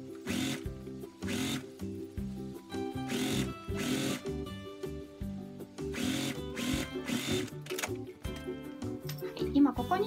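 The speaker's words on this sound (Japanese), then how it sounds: "ここに押さえのミシンをかけていきます。" A sewing machine runs in repeated short bursts while stitching fabric for a 20 cm by 5 cm wire-frame zipper pouch, close and fairly loud, with a voice talking between and over the runs.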